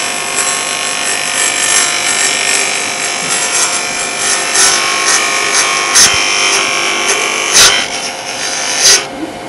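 A wood turning tool cuts a spinning piece of dry wood on a lathe, making a loud, steady, hissing scrape as shavings peel off, with occasional sharper catches and bumps near the end.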